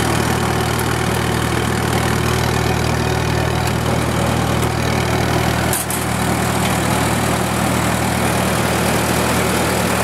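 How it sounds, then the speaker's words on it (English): An O'Keefe and Merritt generator from a WWII anti-aircraft gun runs at a steady idle, loud and close. It keeps an even, throbbing engine drone throughout with a brief dip partway through. "an O'Keefe and Merritt Company generator."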